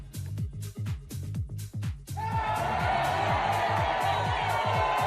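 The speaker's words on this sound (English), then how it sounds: "That's not cheering. That's actually booing. It's supposed to be booing." A crowd booing sound effect bursts in after about two seconds, a dense, loud, sustained roar of many voices layered over rhythmic background music that keeps thumping underneath.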